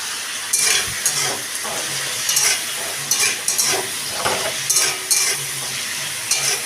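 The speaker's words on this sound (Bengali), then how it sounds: "আলুগুলোকে আমি একটু নাড়াচাড়া করে নিই" Potatoes are stirred in a hot cooking pan while a shutki fish dish is being prepared, with about eight scraping strokes of a spatula against the pan, repeating at a loose rhythm over a constant soft sizzle.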